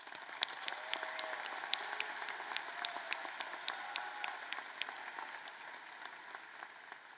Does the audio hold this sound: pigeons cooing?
no